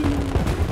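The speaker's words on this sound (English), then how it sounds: "All right, let's do actual fireworks." Fireworks bursting in the destruction sandbox game Teardown, a dense run of overlapping booms and crackling pops with no clear gaps between bursts, loud and close throughout this short moment.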